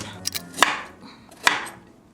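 A knife chops food on a cutting board: a few sharp, irregular knocks, some louder than others, with quiet kitchen sounds in between.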